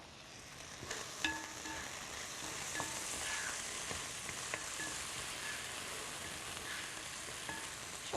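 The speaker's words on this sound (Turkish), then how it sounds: "kuşbaşı doğradığım etimi de tavama gönderdikten sonra onu biraz tuz ve karabiber koteliyorum" Steady loud sizzling of onions and diced meat frying in a hot pan, with occasional clinks and scrapes of a utensil stirring.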